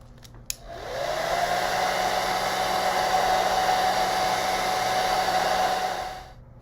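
Hair dryer blowing on a watercolor seascape painting on a trading card, a steady close whoosh with a faint whine that starts after a click and runs alone for several seconds before cutting off.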